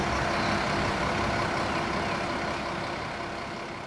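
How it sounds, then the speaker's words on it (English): A large bus engine rumbles steadily up close at a quiet early-morning station, a broad continuous drone that slowly fades as the vehicle pulls in and slows. "This is our bus arriving now."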